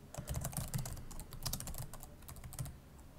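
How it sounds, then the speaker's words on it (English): Keys clatter on a computer keyboard in an irregular stream of quick, close taps while someone enters a message into a realtime chat app. No voices. "I could go ahead and type something in and go ahead and send that."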